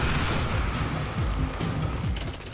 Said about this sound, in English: knights will spawn and start showering you with artillery fire